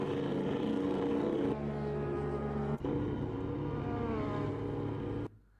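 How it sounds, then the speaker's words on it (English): Formula 1 racing car engines at the 1986 South African Grand Prix, a sustained loud droning engine tone that shifts pitch partway through, then cuts off abruptly near the end. "you can hear the engines and everything"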